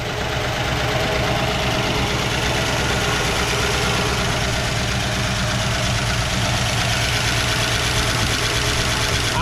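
A 1959 Plymouth Savoy, left abandoned for over fifteen years and with a carburetor needing work, idles roughly, a loud, close, continuous engine drone with an uneven knocking pulse throughout.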